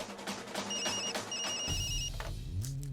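A telephone rings in two electronic bursts, fairly clear, followed by a low rumbling noise.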